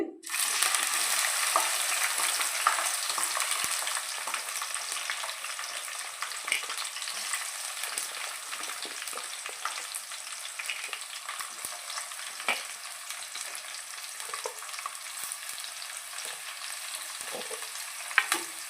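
Ivy gourds sizzle steadily in a hot pan, a dense continuous frying hiss that starts abruptly and holds for the whole stretch, with occasional faint stirring clicks and no voices.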